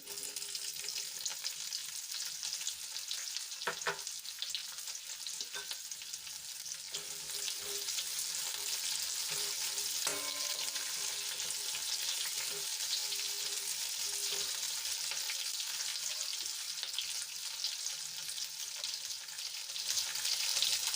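Sliced onions hiss and sizzle in hot oil in a pan with cinnamon, cloves, bay leaf and star anise, a steady close frying crackle with no voices.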